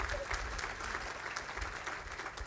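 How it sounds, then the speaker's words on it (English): Applause from the audience at a fiscal year 2022-2023 budget address, a dense, steady patter of many hands clapping throughout, moderately loud with no voices. "You clap"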